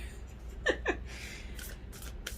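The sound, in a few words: shuffling a deck of tarot cards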